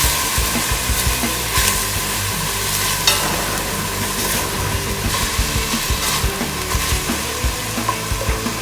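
Sofrito, a seasoned base for Ecuadorian fanesca, sizzles and crackles in a pan while a spoon scrapes and stirs it repeatedly, with no voices over the steady frying.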